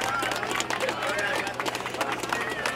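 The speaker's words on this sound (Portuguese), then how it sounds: "Palmas pra batalha, mano." A crowd at a rap battle claps and cheers, dense rapid applause with voices mixed in, loud and close throughout.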